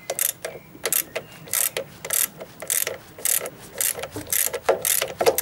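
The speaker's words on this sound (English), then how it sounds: "Loosen the upper mounting bolt." Socket ratchet loosening the upper mounting bolt of an automatic tensioner pulley during a crankshaft damper pulley change, giving a steady series of close, crisp clicking bursts in a regular back-and-forth rhythm with no talk.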